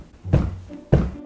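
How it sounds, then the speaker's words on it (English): Two hollow knocks on a wooden floor in an old 1920s semi-detached house under renovation, spaced about half a second apart, close and moderately loud. "a wooden floor should sound like this."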